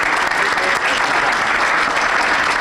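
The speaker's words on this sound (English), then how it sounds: "We'll give him a round of applause." Audience applause for the mayor at a Saint Paul police civilian review commission meeting, loud, dense and continuous clapping filling the room without letting up.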